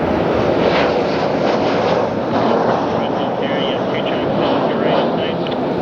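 A jet airliner takes off from runway 24 left at LAX, heard as a broad, sustained engine roar that stays steady from start to end at some distance, with a voice speaking over it.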